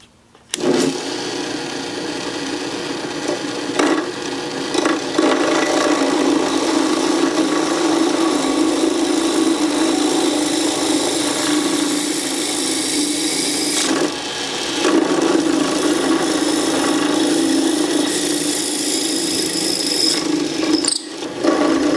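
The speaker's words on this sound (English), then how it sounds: "Here I'm going to drill out some holes for the pencils, and I've set this in an angle. So I'll start drilling." A power drill bores holes at an angle into a wooden pencil sharpener mount, giving a loud, steady whining grind that runs continuously for long stretches, with brief dips between holes.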